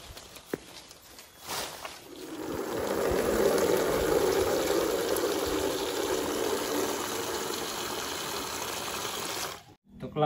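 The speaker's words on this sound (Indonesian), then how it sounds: "Untuk langkah awal kita siapin air dulu, air keran bisa" Tap water runs steadily into a container for about seven seconds, a close, continuous splashing flow that starts after a few soft knocks and cuts off at the end.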